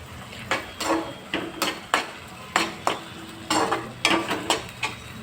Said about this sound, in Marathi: आणि आता हे सगळं आपल्याला मिक्स करायचं आहे.